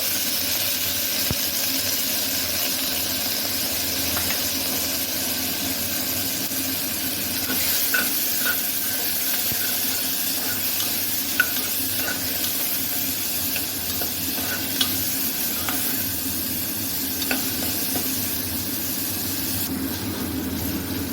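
Chopped onion, bay leaf, whole cumin and cut beans and carrots sautéing in a pan, a quiet steady sizzle and hiss with occasional soft clicks of stirring, no voices.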